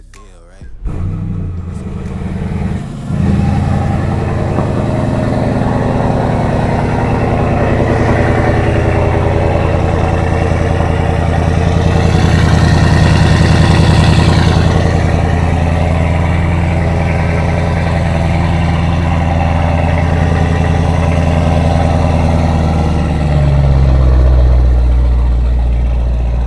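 A 900 HP Brabus GLE 63 based on the Mercedes-AMG GLE 63 S Coupe starts up and settles into a deep, loud, steady idle, with a heavy low rumble that swells slightly midway and drops off near the end.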